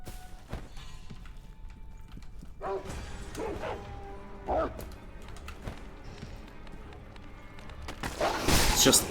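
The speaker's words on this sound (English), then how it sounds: "It's just endless dogs." Dogs in Sekiro: Shadows Die Twice bark in scattered bursts, sharp and near, alongside thuds and other game noise, ending in a louder clash. A voice talks over parts of it.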